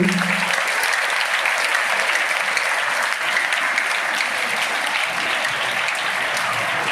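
A school audience at a Teacher's Day event applauds loudly for the children, a dense, continuous roar of many hands clapping evenly from start to finish.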